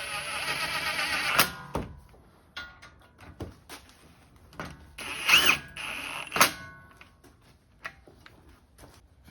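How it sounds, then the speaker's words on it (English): Brake caliper bolts on a MINI GP2 or BMW 135i front brake job are run down with a tool, giving irregular ratcheting clicks and sharp metallic ticks in scattered bursts, close by with quiet pauses between. "And then I'll run down these bolts."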